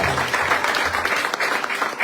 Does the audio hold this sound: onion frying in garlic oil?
no